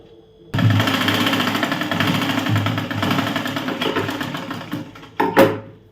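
Sewing machine stitching tucks into a blouse, a fast steady mechanical chatter that runs for several seconds, then stops, with a short final burst of stitching at the end.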